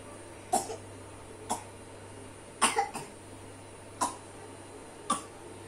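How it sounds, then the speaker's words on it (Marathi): A woman coughs in five separate bursts spaced about a second apart, one of them a quick double cough, fairly close and faint against a quiet room with a low steady hum. "काही मुदामच खोकते"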